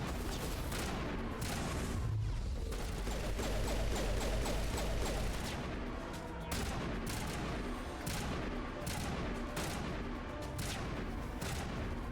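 Sustained gunfire in Mass Effect 1 Legendary Edition, with dense overlapping bursts and booming shots that roll on loudly for the whole stretch.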